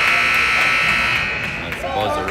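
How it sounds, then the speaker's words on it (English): A steady electronic buzzer blares at a youth peewee B1 ice hockey game between Brainerd and Proctor, marking the end of the first period. The sustained tone runs throughout, amid arena crowd noise and voices. "That's the buzzer, end of the first period."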